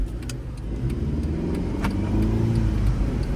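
A Mercedes-Benz car drives along, heard from inside as a steady low engine and road rumble that swells slightly near the end, with no speech.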